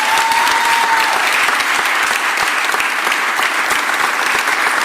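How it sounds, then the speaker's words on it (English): Steady, loud audience applause fills a press conference held by the mayor at the end of the District Council 33 strike, with dense clapping that holds evenly throughout and no speech over it. "Give Joe Grace a round of applause."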